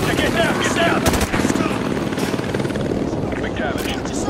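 An enemy helicopter in the Call of Duty: Modern Warfare 2 campaign gives a loud, continuous rotor thump, joined by bursts of gunfire and shouted voices in the middle of battle.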